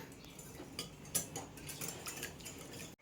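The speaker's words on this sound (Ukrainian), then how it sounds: "Давай, доця, збивай яйця." Eggs being whisked in a bowl for crepes, quiet rapid ticking clinks of a whisk or fork against the bowl in a steady rhythm, faint and close with no talk.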